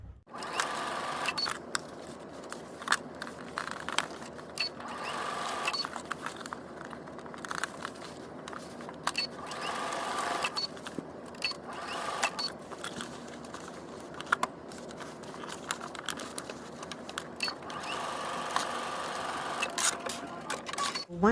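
Sewing machine stitching a seam around a fabric edge, a rapid mechanical whirring in repeated bursts with short pauses, close and fairly loud, with a voice talking at times.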